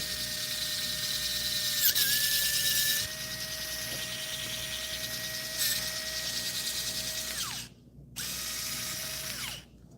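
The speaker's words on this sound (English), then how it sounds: "Let's see if it drills through, how fast it'll go through plastic." Arrowmax rotary drill boring through a chunk of plastic, a loud steady high-pitched whine with a squealing tone that dips briefly as the bit bites, then cuts out and restarts near the end, with no talking.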